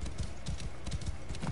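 Horse hooves clip-clop in a steady trotting rhythm, moderately close, on a mount ridden in the video game Assassin's Creed Origins, with a faint voice in the background.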